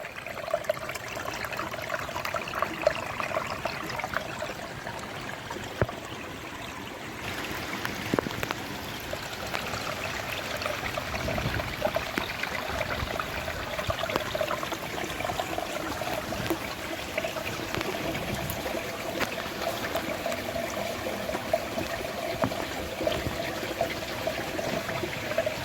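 Water flows out of Vaghnath Bapu's cave on rainy Girnar as a continuous trickling, splashing rush, fairly close and steady for the whole stretch, with no speech.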